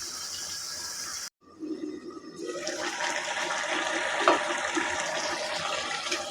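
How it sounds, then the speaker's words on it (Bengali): Broth poured into a pan of banana stem and potatoes gives a rushing liquid splash after a brief silence, then a steady bubbling simmer that holds close and fairly loud with no talk. "কষানোর পরে এখানে আমি ঝোল দিয়ে দেবো"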